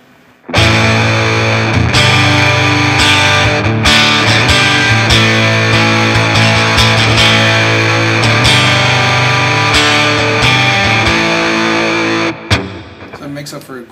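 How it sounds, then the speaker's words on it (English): A Music Man JPX electric guitar played through heavy distortion rings out in loud, sustained chords, with short breaks between phrases and a sudden cutoff at the end. "So let's try it out with a little bit of distortion,"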